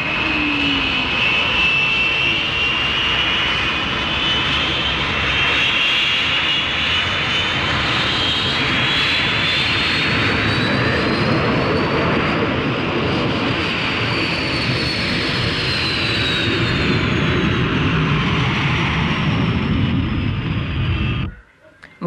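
A North American F-86D Sabre jet engine runs at full power while the aircraft taxis, a loud, sustained roar with a rising and falling whine, continuous for about twenty seconds before cutting off abruptly.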